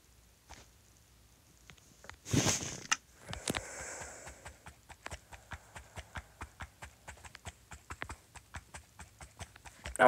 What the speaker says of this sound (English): Ooh, a donkey.